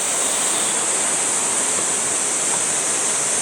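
Geumryung Falls, the eleventh of the twelve falls on Seongchisan in Geumsan, pours in a steady, loud broadband roar that never lets up, with no voices over it.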